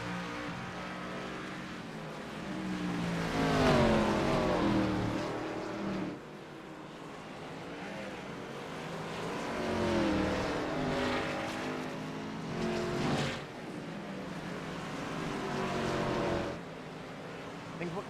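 Race car engines drone past on the Charlotte Roval road course in the iRacing Xfinity Series sim, swelling and fading in several passes with rising and falling pitch.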